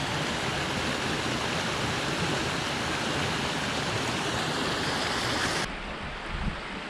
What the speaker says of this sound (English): drop back down to the waterfalls and the river.